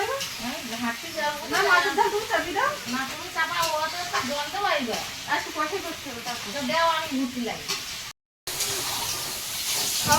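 Fish fries in hot oil in a pan, a continuous hissing sizzle that runs beneath ongoing conversation nearby.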